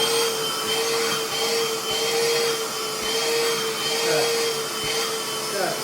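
A Ridgid cordless wet/dry shop vacuum runs continuously up close, a steady loud whine with a droning motor tone that holds even throughout.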